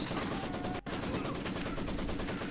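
Rapid bursts of gunfire from a real-time strategy video game tournament match fill the clip, a steady dense rattle of shots with one brief dropout near the start.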